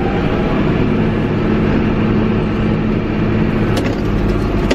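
A tractor-driven flail topper mower runs at 1000 RPM while mowing farm grass, giving a loud, steady mechanical roar and drone that barely changes across the clip.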